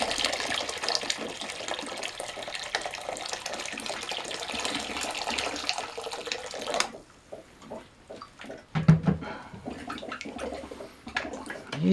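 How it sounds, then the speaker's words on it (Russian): Hot tap water gushes steadily into a container of grape pomace mash for about seven seconds, then stops and gives way to quieter sloshing, stirring and knocking sounds. "горячей воды."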